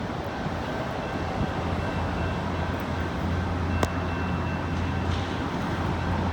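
A local CSX freight train rolls past on a rainy day with its caboose leading, a steady low rumble of rail traffic holding at an even level throughout, with rain noise and no talk.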